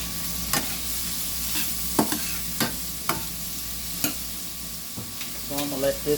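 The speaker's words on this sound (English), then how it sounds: "get my bacon cooking" Bacon frying in a pan in a home kitchen, a steady close sizzle with a string of sharp pops and crackles at uneven intervals.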